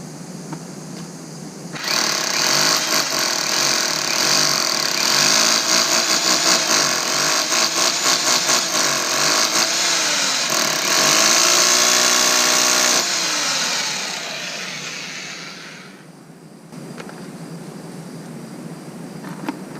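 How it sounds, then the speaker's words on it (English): A hammer drill grinds loudly and steadily for about eleven seconds, drilling holes into a masonry basement wall, then winds down, leaving quieter background noise. "It makes short work of drilling holes into masonry."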